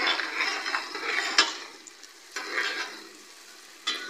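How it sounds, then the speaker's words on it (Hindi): Onion, chopped ginger, garlic and a few green chillies sizzle and fry in a pan for beef keema, with steady crackling broken by a few sharp stirring scrapes; no one speaks. "ये अदरक और लहसुन और 2-3 सब्ज़ मिर्चें मैंने इसके अंदर चॉप की हुई हैं, ये इसके अंदर डाल के इसको थोड़ी देर भूनते हैं।"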